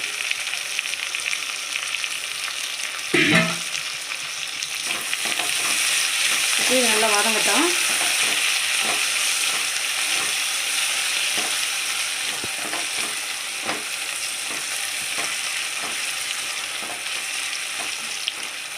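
Onions, mint and coriander sizzle steadily in hot oil in a pan, a continuous frying hiss with occasional utensil scrapes and a brief clatter of stirring.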